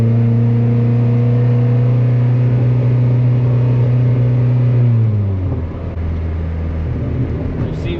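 A turbocharged Honda Civic engine drones steadily at a held RPM, close and loud with a strong even tone, then the pitch drops and settles to a rougher lower idle-like note.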